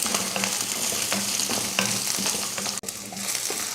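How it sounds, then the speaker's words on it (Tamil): Onion, garlic, ginger and coconut sauté in oil in a kadai, a steady close sizzle with repeated scraping stirs of a spoon against the pan and one brief sharp clink near the end. "கடாயில் எண்ணெய் ஊற்றிட்டு இப்போ வெங்காயம், வெள்ளைப்பூடு, இஞ்சி இதெல்லாம் வதக்கிடலாம்."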